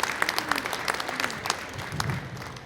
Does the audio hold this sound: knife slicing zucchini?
no